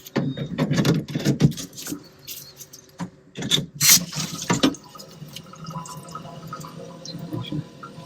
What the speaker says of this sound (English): blow some more air through it so it'll push water from the hot side out of the water heater